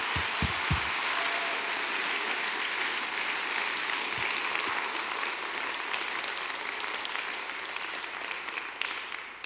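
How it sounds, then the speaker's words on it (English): A large audience at the Ubuntu Summit applauds the lightning talk speakers, dense sustained clapping filling the hall at steady loudness for several seconds before gradually easing off. "close out the lightning talks with a big applause for all of them"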